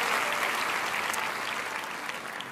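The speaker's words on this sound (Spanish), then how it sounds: "le demos un buen aplauso a todos esos amigos que nos ven en todo el mundo" A church congregation applauds during a Christian service, a dense, even clapping that carries steadily through the whole moment at moderate volume.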